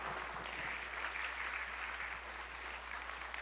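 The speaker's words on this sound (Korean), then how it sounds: "박수로 우리 환영하겠습니다" A church congregation at Sunday worship claps to welcome the pastor, a soft, fairly distant, even patter of hands over a low steady hum, lasting a few seconds.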